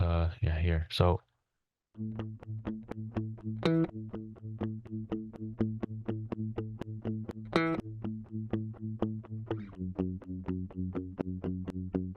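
Bass guitar repeating a line an octave higher through effects, giving a steady chorused, distorted tone with evenly pulsing notes, preceded by a short spoken interjection.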